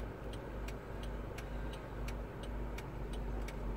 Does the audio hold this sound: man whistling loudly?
no